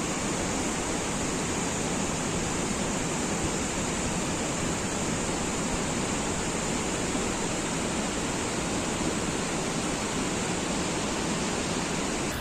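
Kanchenjunga Falls, a large waterfall near Kanchenjunga National Park, roars as a dense, steady, loud rush of falling water that fills the whole stretch without a break.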